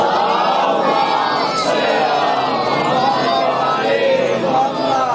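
A large crowd at a Muharram religious gathering recites salawat together, loud and in unison, with massed voices filling the whole stretch.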